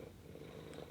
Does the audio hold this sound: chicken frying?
no